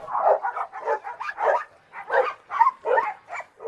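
A Doberman and a Cane Corso bark in a rapid, loud, close flurry of overlapping barks and yips, with no one speaking.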